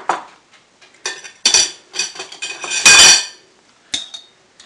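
Whole coriander seeds spooned into a cooking pot: a spoon scrapes and clinks against metal in short, separate bursts, near and fairly loud, with quiet pauses between.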